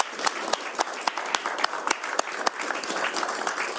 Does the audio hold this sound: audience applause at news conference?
yes